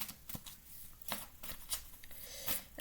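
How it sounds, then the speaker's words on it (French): Tarot cards are shuffled by hand for a reading, giving quiet, close riffling bursts and soft slaps in an irregular rhythm with no talk. "on mélange encore un petit coup"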